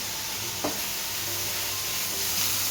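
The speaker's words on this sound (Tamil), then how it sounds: "இப்போ வெங்காயம் தக்காளியில் நல்லா வதங்கிடுச்சு" Onion and tomato sautéing in a pan on a home stove, a soft continuous sizzle with a faint scrape or two of stirring, quiet and steady with no talking.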